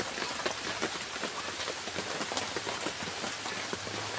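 Steady rain falls continuously on a surface outdoors, a dense even patter with scattered louder drops, heard alone without any talking.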